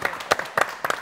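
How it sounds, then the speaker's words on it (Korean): A few scattered handclaps from a small group audience, sparse and uneven sharp claps over about a second. "이제 박수 한번 쳐주죠."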